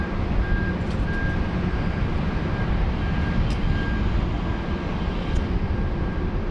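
A Virgin Australia airliner takes off from runway 34 left at Sydney Airport, bound for Cairns. Its engines make a steady, broad roar heard from a distance, with no speech.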